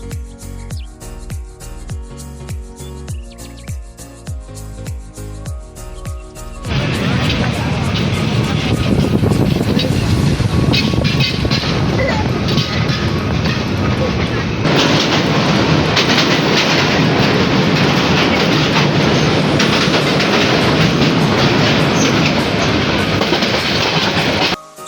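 The Brahmaputra Express passenger train runs on rails in Bangladesh, between Dewanganj and Dhaka. A quieter tonal passage gives way to a loud, steady rumble with rattling wheel clatter that continues to the end.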